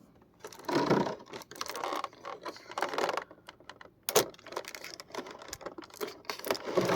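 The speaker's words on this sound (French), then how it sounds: "Je vais retirer toutes les scotch qui maintiennent pour empêcher l'ouverture de la boîte" Adhesive tape is peeled off a cardboard figurine box in short, crackly tearing strips with light handling taps between them, close and fairly quiet.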